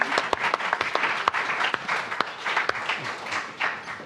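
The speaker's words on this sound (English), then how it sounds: "Can we have a round of applause?" Audience applause at a live fan convention stage show, a dense sustained wash of many hands clapping, fairly loud and steady throughout with a few sharper individual claps standing out.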